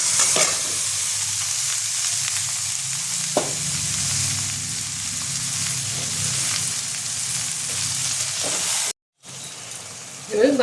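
Marinated chicken goes into a pan of browned, frying onions, setting off a loud, steady sizzle with stirring scrapes close up, briefly cutting out near the end before the frying resumes.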